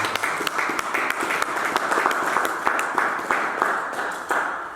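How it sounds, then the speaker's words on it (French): A congregation at a French-language evangelistic church service applauds, with brisk, dense rhythmic clapping that holds steady throughout. "On acclame Jésus comme Messie"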